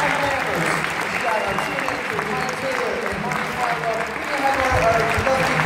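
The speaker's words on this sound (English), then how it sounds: "help us give them a big round of applause" Concert audience applause in Costa Mesa for an a cappella group's crew, a sustained dense roar of clapping with cheering voices mixed in.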